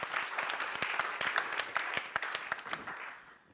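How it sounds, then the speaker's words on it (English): An audience at a parallel session of an innovation superclusters conference bursts into a brief round of applause, dense steady clapping from many hands heard at moderate distance, fading at the end. "So please, again, maybe a round of applause"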